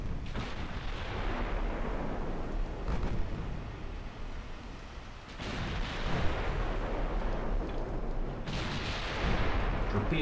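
Naval guns fire high explosive rounds in the Ultimate Admiral Dreadnoughts naval battle game, producing heavy, continuous booming and rumbling salvos that swell and overlap, with fresh blasts at intervals over a dense roar.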